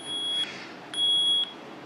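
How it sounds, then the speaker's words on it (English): A burglar alarm sounds nearby in a lighting-equipment setting with an ADJ fixture, a shrill steady electronic tone pulsing on and off in two long beeps, loud and alone. "I'm going to set the burglar alarm off again on this guy."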